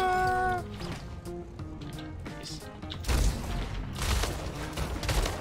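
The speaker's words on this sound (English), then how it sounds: "how does our shotgun hit him for so little?" Shotgun blasts in the Splitgate arena shooter, a few loud booming shots over busy game sounds and a brief musical tone at the start, spaced irregularly across the clip.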